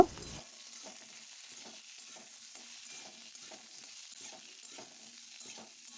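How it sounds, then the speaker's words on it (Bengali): Potato, sweet potato, carrot and beans stir-fried in hot oil, a quiet continuous sizzle with a regular rhythm of soft spatula scrapes and taps, close and without speech. "এবার আমি তেলেতে দেবো আলু, রাঙা আলু, গাজর আর বিনস। এটাকে আমি কিছুক্ষণ ভালো করে নাড়াচাড়া করে নেব।"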